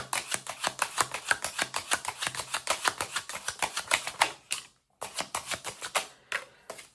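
Tarot cards shuffled by hand give a rapid, dense run of crisp clicks and flutters for several seconds, pause briefly, then resume; close and alone, with no talking.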